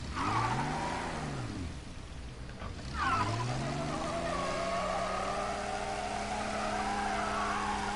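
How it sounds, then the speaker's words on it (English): A car engine in the video game Mafia remake revving and droning with rising and falling pitch, a brief dip before it surges again into a sustained whine, in rainy weather. "This car sounds like it's about to fall apart."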